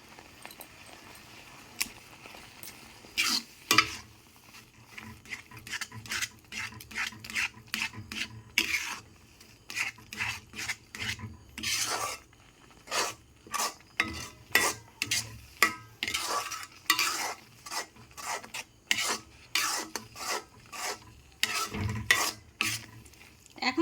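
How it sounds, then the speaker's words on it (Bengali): Orange sandesh mixture with food colouring being stirred and dried out in a pan, a steady run of close scraping, rasping strokes with occasional clinks of the spoon, no voices. "নাড়াচাড়া করে আমি খানিকটা শুকনো শুকনো করে নেব"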